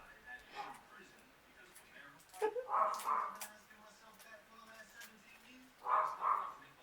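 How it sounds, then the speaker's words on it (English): A pet dog barks and yips from a short distance inside a home, two bursts of barking separated by quieter stretches, with a person talking at a low level nearby. "You hear my doggy?"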